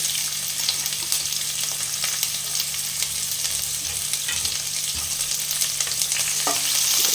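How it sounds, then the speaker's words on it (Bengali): Finely chopped onion fries in hot oil for a Bengali bottle gourd and chana dal dish, giving a constant close sizzle with occasional stirring scrapes and no speech. "পেঁয়াজটা ভাজা হয়ে গেছে"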